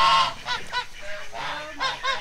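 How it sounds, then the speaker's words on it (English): Several geese honk loudly and hiss in repeated overlapping calls, close by on a farm, with no talk in between. "the geese are hollering, hissing at him."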